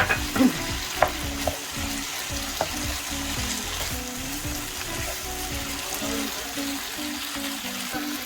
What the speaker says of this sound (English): you're gonna add the cubed tomatoes and mix it